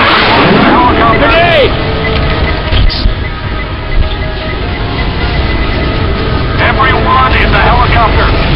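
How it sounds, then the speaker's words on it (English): In the Left 4 Dead 2 Parish finale, a helicopter arrives with a loud, steady engine and rotor roar amid heavy game action, while character voices call out over it. "There's the copter! Let's go! Helicopter!"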